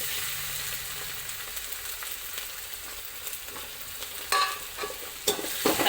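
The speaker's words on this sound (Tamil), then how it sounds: "தக்காளி கொஞ்சம் வதங்கட்டும்." Chopped tomatoes sautéing with onion and curry leaves in a pan for paruppu urundai kuzhambu, a steady close sizzle with a few scraping stirs near the end.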